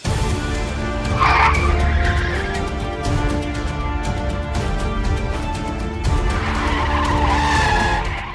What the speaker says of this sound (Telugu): ఈడెవడో తాగేసి బండి తోలుతున్నట్టున్నాడు